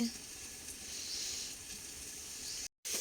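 Mixed winter vegetables fry with a cumin tempering in a pan, giving a steady soft hiss and sizzle with faint stirring, briefly cut off near the end before the sizzle resumes.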